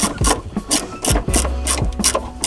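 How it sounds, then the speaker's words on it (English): A ratchet tightens the battery hold-down on a Ford Crown Victoria, a series of close, rhythmic clicking strokes with short gaps, loud and alone. "just finish it off with the ratchet"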